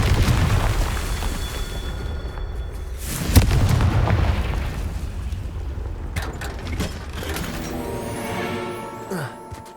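A Confringo fire spell in Hogwarts Legacy detonates with a loud, close booming blast and a crackling rumble that trails off into scattered debris clatter and quieter game sounds.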